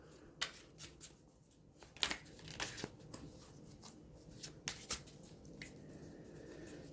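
Tarot cards being shuffled and pulled, heard as a run of soft, close papery flicks and slaps in irregular bursts, with a few sharper snaps around the middle, all faint and with no talking.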